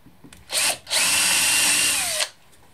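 Power drill used in woodworking while building a guitar body: two bursts, a short one and then a longer steady high whine of about a second and a half, loud and close, no talking.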